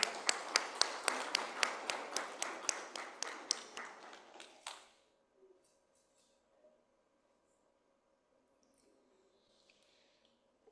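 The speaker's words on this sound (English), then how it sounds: "Please give them a round of applause." Audience applause at an award ceremony during a healthcare summit, a burst of dense clapping that thins into scattered claps and stops abruptly near the midpoint, followed by quiet room tone.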